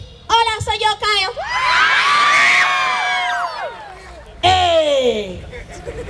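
A crowd at a comic fest shouts, whoops and cheers loudly in a sustained burst, with voices talking over it before and after.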